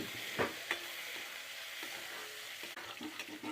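Ginger and garlic fry with mustard seeds in a pan, giving a continuous close sizzle with a few soft stirring scrapes and light pops; no speech.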